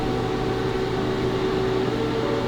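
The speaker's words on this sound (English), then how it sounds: "Heat it up in the microwave and wait till your tofu is ready to go." A microwave oven hums steadily as it heats broccoli and asparagus, giving a constant mechanical drone with a fan-like whir that runs unbroken and fairly close throughout, with no talking.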